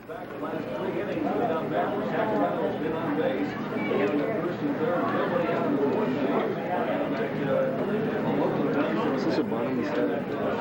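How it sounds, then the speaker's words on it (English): Baseball crowd chatter fills the stands at a 1985 American Legion championship game, a steady dense murmur of many voices with scattered calls, continuous and fairly loud throughout. "The crowd beginning to get into this"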